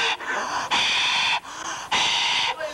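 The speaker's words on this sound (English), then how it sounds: "He's breathing like fire." Heavy breathing comes over a telephone line, slow rhythmic loud breaths in and out with brief gaps between them and no talk.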